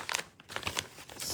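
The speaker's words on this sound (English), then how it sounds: "And then I stick them in a little plastic bag to send to Sandy" A small plastic bag crinkles close to the mic in a series of irregular rustles and crackles while handmade trading cards are packed into it, with no talking.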